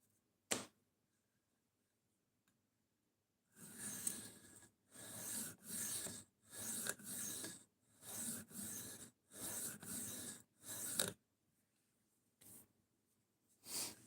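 A knife blade is drawn across a DMT diamond sharpening stone in about eight regular raspy strokes, each roughly half a second long and close up, with a few isolated clicks before and after.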